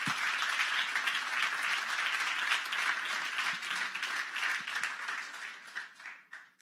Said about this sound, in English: One round of applause for everyone here.